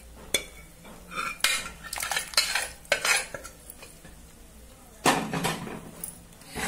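Lentils tipped into a pot of sambar with carrot and sambar powder, giving a series of clattering utensil scrapes and metal clinks against the pot, close and fairly loud, with a heavier clatter near the end.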